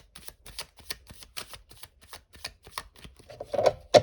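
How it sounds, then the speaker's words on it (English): Oracle cards being shuffled by hand in a quiet room, a series of crisp riffling bursts in a steady rhythm, close and alone, ending in a louder flurry of card snaps. "Okay, we're going to do one last shuffle here."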